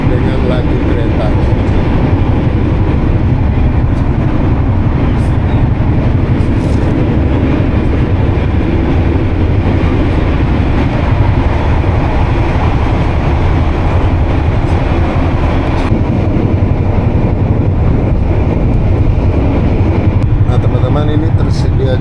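Steady loud rumble and rattle inside the moving Singasari economy train travelling from Pasar Senen to Kediri, continuous clatter with no pauses throughout.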